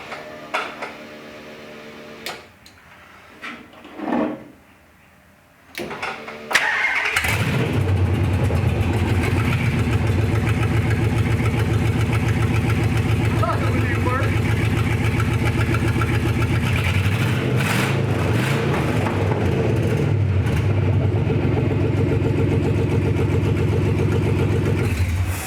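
A Gen 3 Hemi V8 swapped into a 1952 Dodge pickup cranks with a few brief bursts, then catches and settles into a loud, steady close-up idle that runs on without a break.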